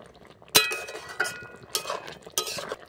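Broccoli and potato curry is stirred in a pan at home, with four or five separate metallic clinks and scrapes of a spoon against the pan and soft rustling between them.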